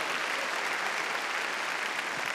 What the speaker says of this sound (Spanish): démosle palmas fuertes a Jehová de los ejércitos